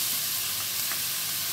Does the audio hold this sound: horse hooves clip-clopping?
no